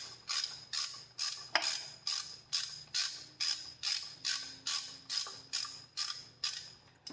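A ratchet fitted with a 1/2 inch socket clicks in an even, repeated rhythm, about fourteen close strokes, while loosening a bolt on a Mopar engine.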